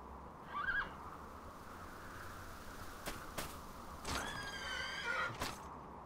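A horse in the video game Dragon Quest VIII gives a couple of whinnies, with a brief neigh early and a longer one later, plus a few sharp knocks over quiet game ambience.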